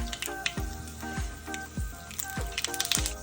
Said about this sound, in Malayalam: അതിനകത്തോട്ട് നമുക്ക് കടുക് ഇട്ട് കൊടുക്കാം.